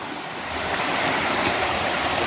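Rainwater flows as a small stream through the Ghumli forest on Barda hill, making a steady, close rushing and gurgling sound that builds slightly in loudness.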